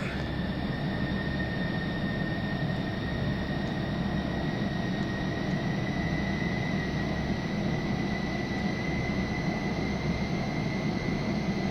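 F-14D Tomcat twin jet engines spool up at about 40 percent throttle in the FSX flight simulator, holding a steady, even roar with high whining tones throughout and no talking.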